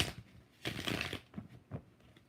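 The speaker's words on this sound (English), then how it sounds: "2 more shuffles for LZ." A deck of tarot cards is shuffled up close in several quick papery bursts with short pauses between them, heard alone at a low level.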